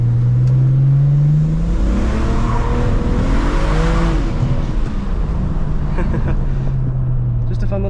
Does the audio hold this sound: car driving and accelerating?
yes